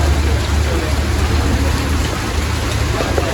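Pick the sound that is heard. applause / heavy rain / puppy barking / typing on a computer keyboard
heavy rain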